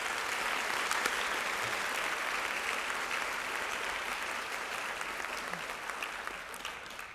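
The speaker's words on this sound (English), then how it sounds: "Let's give them all a round of applause" An audience at the 2014 Waco High School Academic Achievers Banquet applauds the sophomore honorees, with dense, steady clapping that fills the room and tapers slightly toward the end.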